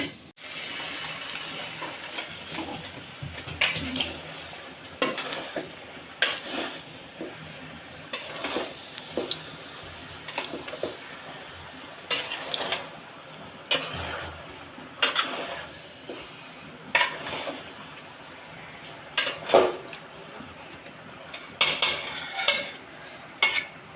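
Beef cooking with raw jackfruit curry in a pan, stirred over a steady background sizzle, with a spoon scraping and clinking at irregular intervals throughout and no talking.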